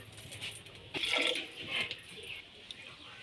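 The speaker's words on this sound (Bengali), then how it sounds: "এবার এগুলোকে সেদ্ধ করার জন্য এক বাটি মতো জল দিয়ে দেব" About a bowlful of water poured into a pressure cooker holding ingredients for Bengali pui (Malabar spinach) dal, giving a brief splashing rush of liquid that swells and fades within a couple of seconds, close and moderately loud, with no talking.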